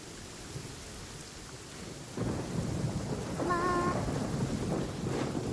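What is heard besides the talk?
rain and thunder in video game Genshin Impact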